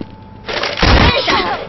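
AK rifle fire in a mobile iOS shooter game, a loud burst of rapid shots with booming impacts lasting about a second, following a brief quieter lead-in.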